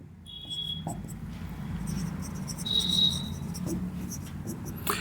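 Pen scratching on paper while accounting entries for a partnership balance sheet are written out, a steady close scribbling with brief pauses.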